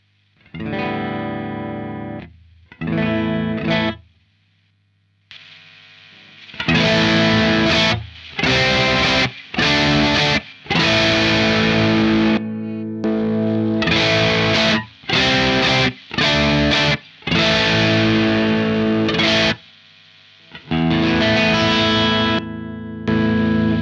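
Guitar played through an ebi tech one AQUA drop effects pedal with volume at maximum, strummed chords in separate bursts with pauses between, driven and slightly chorused, loud and close with no talking.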